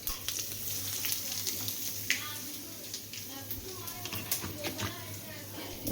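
Asafoetida and whole cumin seeds sizzle in hot oil with a steady crackling fry, sharp pops and scraping stirs, while someone talks over the cooking.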